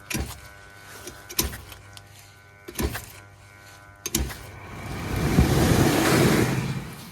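An oiled pump motor and bearing shaft in a plumbing unit tries to start, giving sharp repeated clicks and knocks at uneven intervals, then building into a rising, rushing whir that holds for a couple of seconds.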